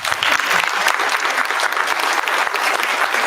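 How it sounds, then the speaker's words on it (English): Loud, dense applause from a crowd at a school spring showcase, steady clapping sustained throughout without a break. "Give another round of applause, please."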